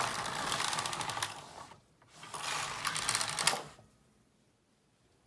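A knitting machine carriage sweeps across the needle bed for round knitting with a comb and weight hung on, a dense rattling clatter in two long passes with a pause between, close and fairly quiet.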